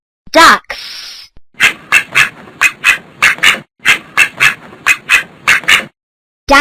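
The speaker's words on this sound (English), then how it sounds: "Ducks." Ducks quack in a rapid run of sharp, nasal calls, about a dozen clipped quacks in quick rhythm, close and loud after a brief opening call.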